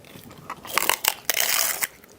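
Someone bites into crunchy food, giving several close, sharp crunches and crushing sounds over about a second, with no talking.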